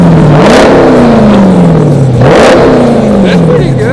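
A widebody Trackhawk with electric exhaust cutouts open revs twice in quick succession, each blip rising sharply then falling back to a rumbling idle, loud and close.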